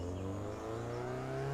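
A car engine idles and revs in neutral in the Test Drive Unlimited 2 racing game, a steady droning hum with rising harmonic tones, moderately loud and continuous with no talk.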